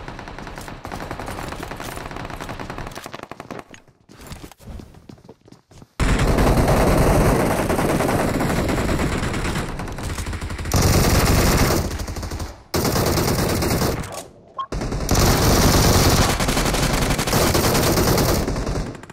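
Gunfire in the battle royale video game BGMI: long, loud bursts of rapid automatic fire broken by brief pauses, with a quieter opening stretch before the sustained shooting begins.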